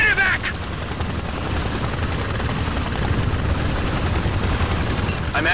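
A medevac helicopter arriving during a GRAW 2 battlefield mission, a loud, steady rotor roar with dense low thudding that fills the whole clip, with brief shouted bursts at the start and end.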